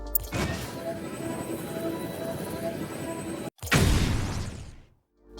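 Batmobile from a video game firing its boost: a sustained broadband rushing whoosh for about three seconds, a sharp cut, then a loud burst that swells and fades to silence.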